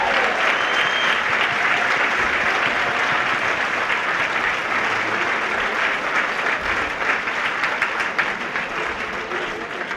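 An audience at a live cantata performance breaks into sustained applause, dense and even for the full stretch, many hands clapping together with no break.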